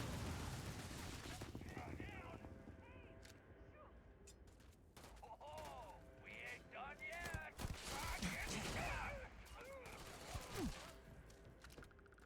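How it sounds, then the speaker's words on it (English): Automatic rifle fire in the sci-fi game Starfield: repeated rapid bursts of shots with mechanical clatter over a busy combat mix, with a person talking at times. "Oh, it's the automatic rifle."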